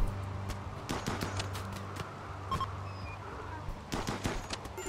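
Gunfire in the video game Rimworld crackles as a series of sharp, irregular shots and short bursts, some bunched in quick runs, over a low background hum.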